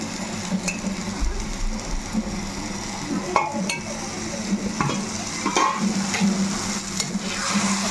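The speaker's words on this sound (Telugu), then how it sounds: "ఒకసారి మసాలాలో ఈ చేపలు కలిపేస్తున్నాం" Small fish get stirred into masala in a pan, with a low sizzle underneath and repeated scraping and clinking strokes of a spoon against the metal, close up.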